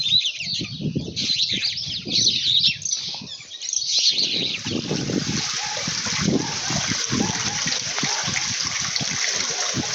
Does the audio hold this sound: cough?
no